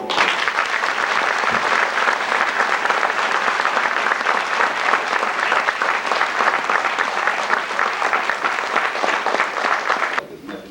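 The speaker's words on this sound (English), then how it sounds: "How about a round of applause?" An audience applauds police academy graduates with loud, sustained clapping for about ten seconds, then cutting off abruptly near the end.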